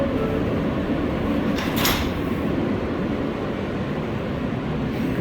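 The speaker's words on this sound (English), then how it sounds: "Stand clear of the closing doors" An R143 subway train on the L line in New York, its sliding doors rolling shut amid steady loud rumble of the car, with a brief hiss-like burst near the two-second mark and no talk.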